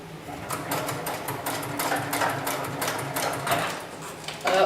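A heavy-duty flatbed double-feed sewing machine stitches in a steady, rapid mechanical chatter, close and fairly loud, running continuously for a few seconds.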